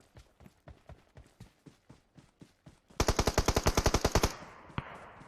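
Gunfire in PUBG Mobile: a slow sequence of single spaced shots, then a loud rapid automatic burst, followed by a fading echo and one more distant shot.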